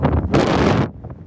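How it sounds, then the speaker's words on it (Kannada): Strong wind at high altitude on a motorcycle ride to Ladakh buffets the microphone in a loud, close roar that swells briefly and then drops away. "ಮಕ್ಕಳೇ ಗಾಳಿ ಐತಿ ಗೊತ್ತಾ ಇಲ್ಲಿ."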